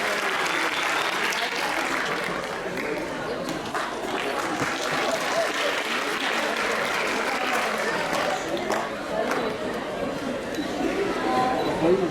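A crowd at an awards ceremony in Diyarbakır marking the anniversary of the national anthem's adoption applauds steadily as the provincial governor comes to the stage, sustained clapping mixed with background chatter.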